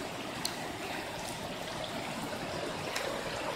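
Floodwater rushes steadily down a residential alleyway, a continuous gurgling wash with no voices.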